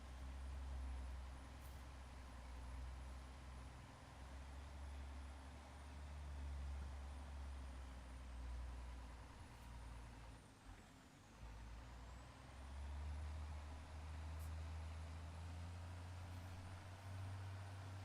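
A GMC pickup truck engine idles and runs in Farming Simulator 22, a steady low rumble that holds at an even level the whole time, with a faint high whine above it and no talking.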